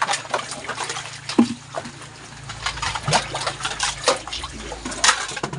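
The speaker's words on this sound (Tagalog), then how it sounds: "Tubig yan." Water pours and trickles in uneven splashes, with a few sharper drips and pours standing out over a low background hum.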